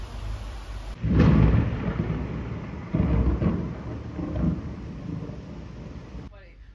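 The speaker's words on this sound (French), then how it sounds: "C'est le bruit de la pluie et de l'orage." Steady rain falls during a thunderstorm, with deep rumbling thunder rolls swelling in at intervals over the constant hiss of the downpour, fairly close and loud before easing toward the end.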